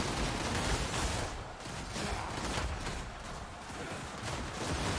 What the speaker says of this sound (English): And just lay in arrows and gunfire.